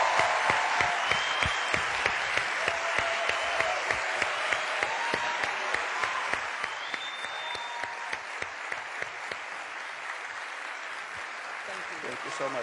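An audience gives long, sustained applause welcoming film director Martin Scorsese to the stage, dense steady clapping that fades slightly toward the end.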